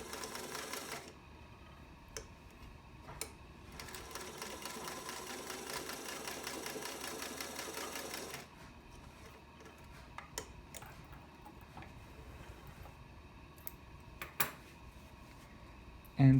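A 1947 Singer 221 Featherweight sewing machine, freshly overhauled and run from a foot controller, stitches in a quiet, rapid ticking run that stops and starts again, with a few sharp clicks in between.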